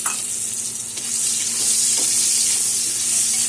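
Chopped onion, added to a pan with already-fried potatoes, crackles and sizzles loudly and steadily in the hot oil, with faint stirring sounds mixed in.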